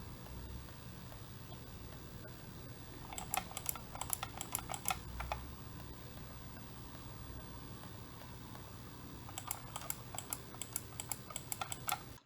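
Logitech M590 silent wireless multi-device mouse clicked in two quick bursts of soft, rapid ticking, faint and close over a low background hum, with no one speaking.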